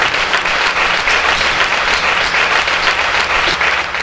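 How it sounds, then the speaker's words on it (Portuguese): Congregation applauding a bishop's sermon in a church, steady dense clapping throughout, loud and close with no talk over it. "Dê um aplauso a Jesus por isso."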